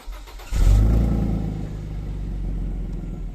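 Renault Clio V6 engine cranking and catching with a loud low burst, then settling into a steady, deep rumbling idle, close by with no talk.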